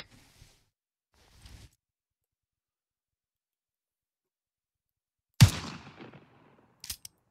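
Gunfire in the military shooter Arma 3: a sharp close burst after long silence, trailing off, then a quick second pair of shots, with faint earlier clicks.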